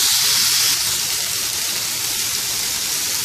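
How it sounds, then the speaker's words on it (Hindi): Chicken pieces frying on a hot tawa for smoky Lahori-style tawa chicken, giving a steady, loud, dense sizzle with crackling oil throughout and no talking. "और अब चिकन को इसमें अच्छा गोल्डन सा फ्राई कर लेंगे"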